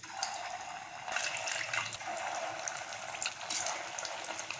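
Vegetable kofta dropped into hot oil in a kadai sizzle steadily, a close, continuous bubbling hiss with no talk over it.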